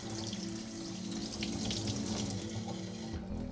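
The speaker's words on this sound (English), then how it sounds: "I'll simply wash it with some water and dish soap using a soft sponge." Running tap water splashes into a sink as a pre-seasoned hand-hammered wok is washed with dish soap and a soft sponge, a steady close rush of water that briefly shifts near the end, with no talking.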